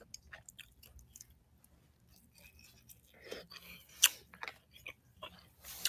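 Close, crunchy chewing and biting on a Penghu bento meal, irregular bites and mouth noises spread over several seconds, rising toward a sharp crunch near the middle, with faint indoor background and no talking.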